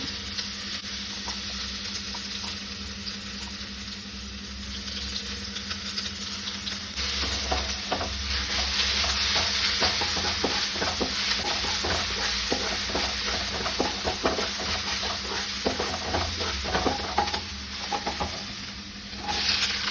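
Ginger-garlic paste fries in a pan, with a steady sizzle and stirring scrapes that grow louder and busier after the first few seconds, continuing throughout.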